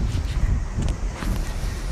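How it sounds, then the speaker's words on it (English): Strong wind buffets an outdoor microphone in a steady, roaring rumble, gusting slightly louder at moments over two seconds, with no speech. "It's very, very windy."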